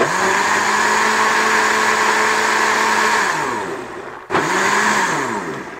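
A ten-year-old Philips HR2061 blender whirs loudly at high speed, winds down, then is briefly switched on again and spins down a second time.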